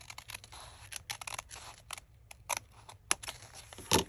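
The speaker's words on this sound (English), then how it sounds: "So I'm going to cut these." Scissors snip through the folded paper of a hardcover journal signature, sharp crisp cuts coming in an irregular quick series, close up and clear against a quiet background.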